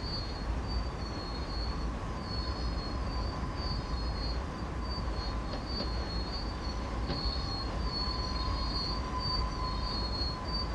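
A freight train of tank cars braking in Train Sim World 2 gives a continuous rumbling roll with thin high wheel squeal running through it, steady and sustained throughout with no talk.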